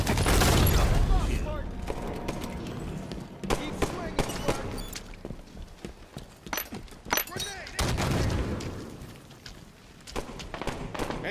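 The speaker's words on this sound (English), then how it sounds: "Enemy fire!" Bursts of gunfire crackle in a Halo 5: Guardians firefight match, rapid volleys and single shots at uneven intervals with mechanical clatter between, loud and close, under occasional voice callouts.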